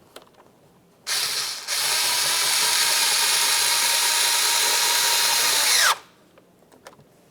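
A power screwdriver drives a screw into a door lock actuator on a 2000-2006 Chevrolet Tahoe front door, giving one steady whirring run of about five seconds with a brief hitch near the start, close and loud with no talk.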